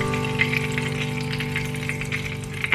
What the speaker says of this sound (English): I have the bacon grease cooking.